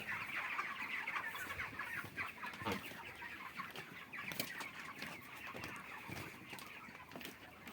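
Farm chickens clucking in a poultry shed where many birds have died and the flock is in poor condition, a dense, continuous chorus of overlapping clucks and squawks filling the space with no talk.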